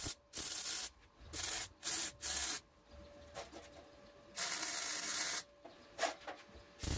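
MIG welding joins salvaged steel metalon tubing in a workshop, loud close crackling hiss in several bursts of a second or so each, separated by short pauses.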